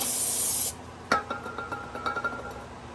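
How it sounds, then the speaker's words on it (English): Carburetor cleaner sprays in a strong, steady hiss under a truck during axle repair work, cutting off after under a second and followed by faint clinks and rustling. "Got some nice clean rags, carburetor cleaner."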